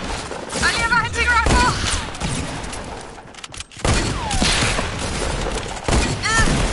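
Sharp, loud gunshots from a hunting rifle in a Fortnite squad match, several distinct cracks spread across a busy battle with chirping effects, and voices can be heard at points.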